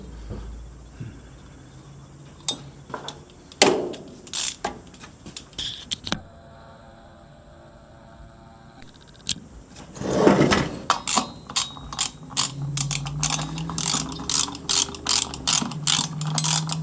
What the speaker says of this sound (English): we just want to put the flywheel nut back on